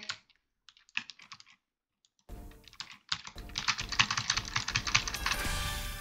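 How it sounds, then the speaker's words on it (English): Rapid typing on a computer keyboard during a Roblox game, sparse clicks at first, then dense close clattering over background game sounds. "Oh, oh I like this new keyboard."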